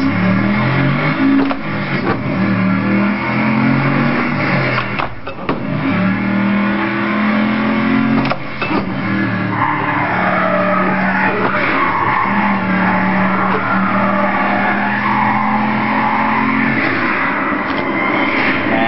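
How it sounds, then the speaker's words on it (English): A manual car pulls away in first gear as the clutch comes up and gas is applied, engine droning and rising in loud, continuous revs with a brief dip partway through, with no talk over it. "then we slowly let go of the clutch and slowly apply gas."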